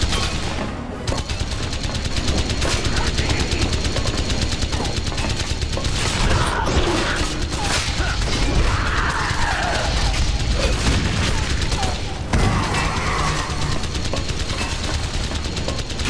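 A minigun-wielding gorilla fires in a Hellboy action game: a loud, continuous roar of rapid gunfire and crashing impacts that runs the whole time, dense and unbroken.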